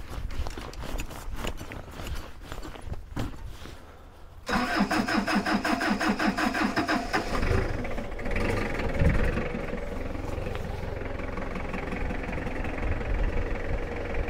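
A big forklift engine cranks roughly for several seconds, then catches and settles into a loud, steady, slightly uneven running rumble close by.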